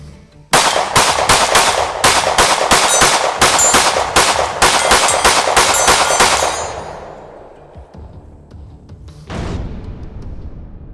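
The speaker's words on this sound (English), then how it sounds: "So we're gonna run 17 rounds through this thing because that's what this holds." A Sig P365 X-Macro Comp compensated pistol fires a rapid string of sharp, loud shots, about seventeen in quick succession, then silence with lingering echo and a brief noise afterward.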